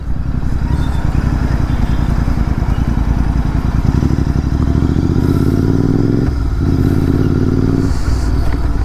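A Royal Enfield Continental GT650 with a Red Rooster exhaust idles and revs nearby with a loud, steady twin-cylinder thrum that swells and dips briefly toward the end.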